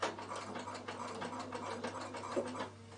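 Bernina sewing machine stitching diagonally toward the corner of a casserole carryall cover, a close, steady mechanical whir with rapid ticking and clattering needle strokes throughout.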